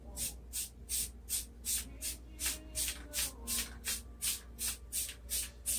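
Spray paint hisses from an aerosol can in a light coat over a Cricut-cut stencil for a big carved sign, about fourteen short evenly spaced bursts in a steady rhythm, close and clear with no talk.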